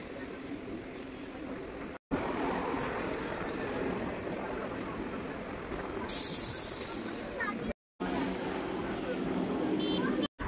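Train noise at Santipur station in hot weather: a steady broad rumble and hiss of a train moving close by, loud throughout, with a brief bright hissing burst in the middle, like air brakes, and people talking underneath.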